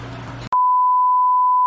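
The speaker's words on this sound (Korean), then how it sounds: "얘는 소리가 딱 알람을 치네요" An automatic aquarium water change system sounds its alarm: after a brief bed of broadband noise, one loud, steady, pure electronic beep begins and holds unbroken for over a second, close and clear.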